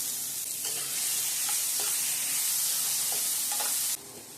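Onion and tomato sizzling loudly in a pan for Tamil-style country chicken kuzhambu, a steady close frying hiss broken by a few soft stirring scrapes, ending abruptly quieter, no talking.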